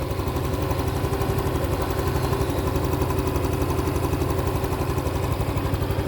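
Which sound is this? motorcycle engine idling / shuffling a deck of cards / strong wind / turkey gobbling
motorcycle engine idling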